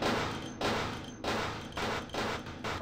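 Gunfire in the vampire RPG Vampire: The Masquerade – Bloodlines, with a run of about five loud, close shots spaced roughly half a second apart, each a sharp blast trailing into a short rumble.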